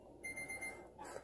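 A timer alarm goes off with a short, thin electronic beep tone that holds for about half a second at modest volume, followed by faint background noise.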